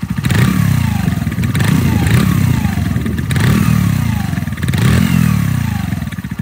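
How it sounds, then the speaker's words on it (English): A Mutt Razorback 125cc motorcycle with a GN125-derived engine and a factory shorty exhaust revs loud and close, rising and falling in repeated pulls with a gritty, clattering exhaust note. "a shorty exhaust, which sounds great straight out of the factory"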